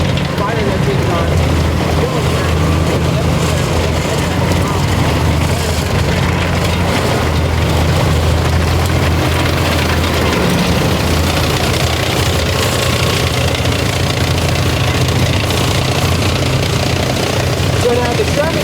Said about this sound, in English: So now the Sherman tank, which we saw just demonstrated with Dick and George